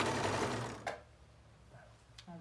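A sewing machine stitches a French seam on a viscose dress, a close, steady mechanical whir for about a second before it stops, leaving a few faint clicks and handling noises.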